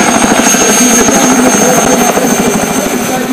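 Mi-2 patrol helicopter from a Ukrainian air base flying over a forest fire during a regional emergency-service drill, its loud, steady rotor thrum and turbine whine continuous and close throughout.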